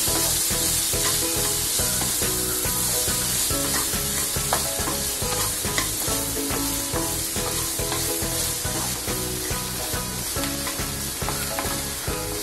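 Food is stir-fried in a pan with sugar and salt added, giving a steady loud sizzle with repeated scraping and stirring clatter throughout, no voices.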